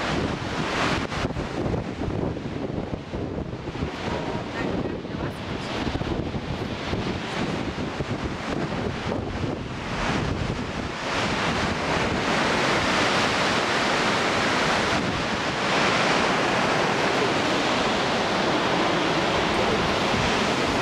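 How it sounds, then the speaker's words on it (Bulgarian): A waterfall in Iceland roars as a steady, dense rush of water, mixed with heavy wind buffeting the microphone. The noise is loud and continuous throughout, with no voices. "Ето ни на Фокси водопадите."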